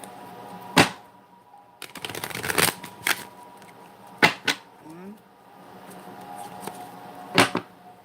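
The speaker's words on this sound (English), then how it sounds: "Two more shuffles." Tarot cards being shuffled during a reading, a dense riffling burst near the middle with a few sharp taps and slaps of the deck around it, close and fairly quiet with no talking.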